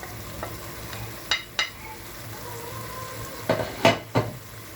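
Minced meat and carrot sizzling softly in a pan while being stirred, with a few sharp utensil scrapes and knocks against the pan over the quiet frying.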